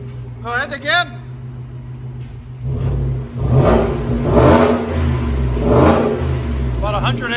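Ford F-150 5.0 Coyote V8 with Rough Country exhaust, idling low under brief talk, then revved hard several times in loud, throaty bursts close by before easing back to idle.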